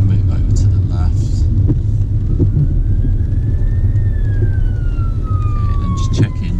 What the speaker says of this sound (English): You can see there's an ambulance up ahead, so I'm just going to slow it down here.